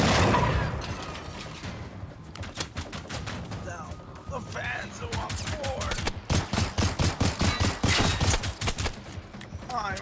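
Rapid bursts of gunfire in the video game Generation Zero as a relay beacon is shot up, dense repeated volleys with pauses between, loud and close, with people talking over parts of it.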